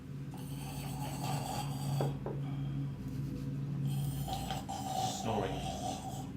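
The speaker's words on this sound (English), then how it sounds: "Snoring." Snoring from a sleeping person in a cramped space, a soft, slow, rhythmic rasp repeating a few times at low volume against a steady background hum.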